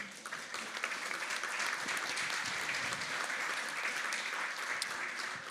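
An audience at a political meeting applauds a colleague, a dense, steady wash of clapping that continues without a break for several seconds.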